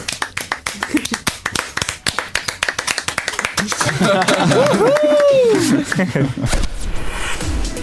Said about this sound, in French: Anyways, on peut les applaudir encore une fois.